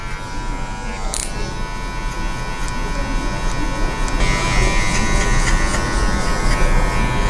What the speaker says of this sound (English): When you do a lower speed on the clipper, it actually helps you detail a fade a lot better.